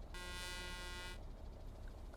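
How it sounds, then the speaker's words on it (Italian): In the video game Euro Truck Simulator 2, a single loud, sustained blast of a Mercedes-Benz SK truck's standard air horn lasting about a second, followed by a low engine idle underneath. "standard Mercedes, tromba d'aria."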